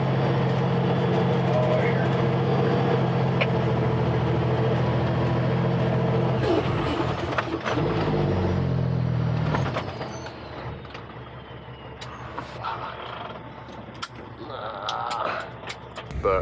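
A vehicle's wheels spin in a snowy gravel pit during a snowstorm: a steady, loud engine drone and rumble that breaks up, then eases to a lower, rougher churn.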